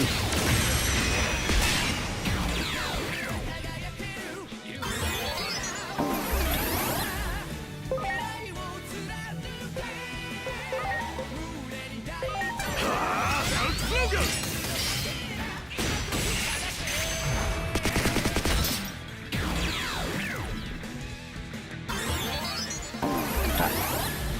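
Gunfire and crashing combat effects from a Digimon video game, loud and dense throughout with repeated impacts, whooshes and bursts layered over a busy game soundtrack, with brief voices mixed in.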